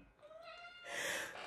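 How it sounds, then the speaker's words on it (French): A cat gives a short, high, slightly odd little meow, close and clear, just after someone sneezes, in a quiet room with no talking. "il fait ce petit miaulement bizarre"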